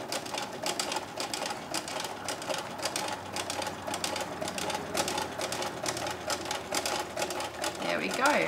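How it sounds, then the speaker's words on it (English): Sewing machine running long, steady stitches through a painted canvas notebook, a close rapid needle clatter that keeps going throughout while a person talks over it. "So there we go, the sewing is done."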